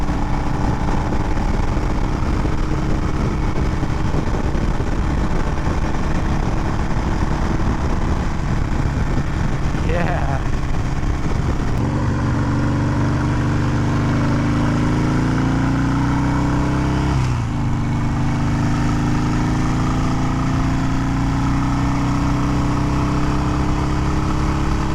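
A 2020 Harley-Davidson Iron 883 on the move after a T-MAP sensor and check engine light fix. Its steady loud engine drone carries wind noise throughout, with rev and pitch shifts near the middle and again later.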